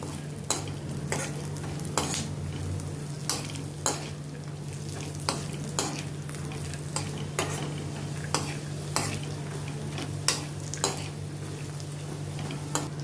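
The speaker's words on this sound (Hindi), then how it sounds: "इसमें अभी मैं ये भुने हुए चने की दाल डालती हूँ। इसको भी अभी अच्छी तरह से रोस्ट करती हूँ इनके साथ।" Chana dal and poha dry-roasting in a pan with a spoon stirring, giving a steady bed of light sizzle and rustle with regular scraping clicks about every second, close and moderately loud, no voices.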